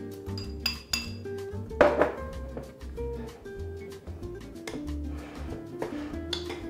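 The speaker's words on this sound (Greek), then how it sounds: "θα φτιάξουμε την κρέμα μας ανακατεύοντας το μασκαρπόνε με τη ζάχαρη άχνη" Mascarpone cheese mixed with powdered sugar in a bowl for lemon tiramisu, a utensil knocking and clinking against the bowl in uneven strokes, close and moderately loud with no talk.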